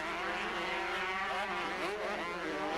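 1994 125cc motocross bikes race around an Italian circuit, several two-stroke engines blending into a loud, continuous high-pitched buzzing drone with shifting revs.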